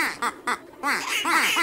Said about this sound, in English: That's a lot of ducks.